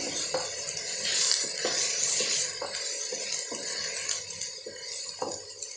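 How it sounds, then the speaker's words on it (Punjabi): Turmeric roasting in a pan while a spoon stirs it: a steady sizzle with regular scraping strokes against the metal roughly every second, close and fairly loud. "ਹਲਦੀ ਨੂੰ ਆਪਾਂ ਥੋੜਾ ਜਿਹਾ ਭੁੰਨ ਲੈਣੇ ਆ"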